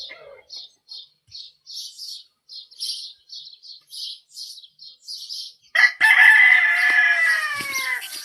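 Poultry sounds close by: a run of short repeated chirps and clucks, then a loud, sustained rooster crow that fills the last couple of seconds.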